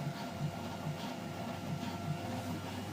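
An old, very slow 3D printer runs steadily, giving a continuous mechanical whir with soft periodic stepper pulses that keep a regular rhythm throughout.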